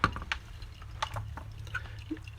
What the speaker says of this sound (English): here's our coarse coffee. Drips out pretty quickly.